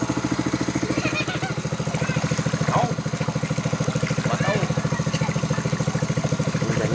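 A small motor engine runs steadily for do-it-yourself deep well drilling at a resort, with a fast, even chugging pulse heard close and continuous, under a voice talking.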